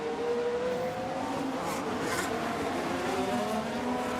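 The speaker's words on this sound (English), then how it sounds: "And the car just locks." In F1 Manager 24 at the Hungaroring, a car's wheels lock up under braking with a sustained engine drone and tyre noise, steady and fairly loud with no voices.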